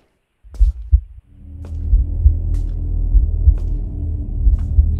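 A slow, deep, throbbing heartbeat in the horror game Slender: 7th Street pulses low and steady over a dark droning hum, with faint sharp clicks above it.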